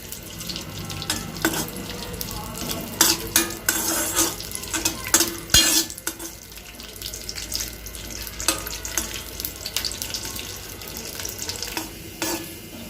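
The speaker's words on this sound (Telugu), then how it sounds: "అందులో జీడిపప్పు యాడ్ చేసుకొని ఫ్రై చేసి తీసుకోవాలి" Cashews fry in ghee in a kadai, a low sizzle broken by frequent clattering stir strokes that come in irregular bursts, close and fairly loud, with no voices.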